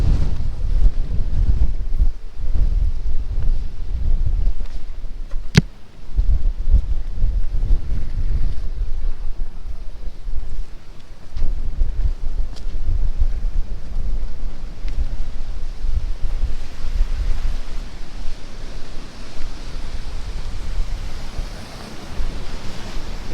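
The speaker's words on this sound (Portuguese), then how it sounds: "Aqui bem atrás de mim a bravura e a força das ondas" Ocean waves crash steadily against the rocky shore of Brava Island, Cape Verde, in a loud, continuous roar, with gusts of wind buffeting the microphone throughout.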